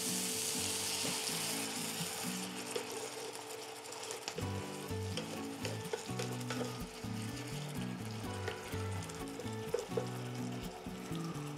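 Chopped onion and tomato sizzle and fry in a pan with a little added water, a continuous close crackle broken by intermittent stirring and scraping of the pan.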